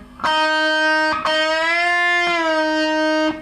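Electric guitar playing the opening of a song, clean sustained notes with a bend that glides the pitch upward, a few separate picked attacks in succession, close and alone.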